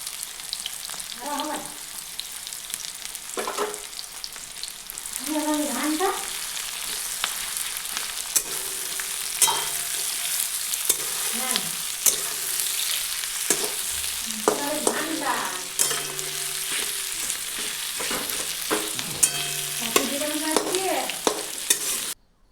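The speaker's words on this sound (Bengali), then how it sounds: "তেলটি গরম হওয়ার পর এর মধ্যে পেঁয়াজ কুচি দিয়ে দিলাম এবং এই পেঁয়াজ কুচিগুলি কিছুক্ষণ ভেজে নেব" Chopped onions fry in hot mustard oil in a wok, making a continuous close sizzle broken by stirring scrapes, while voices come and go in the background.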